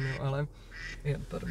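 A mobile phone ringtone that imitates a duck's quacking, ringing in a room while someone speaks over and between the repeated quacks.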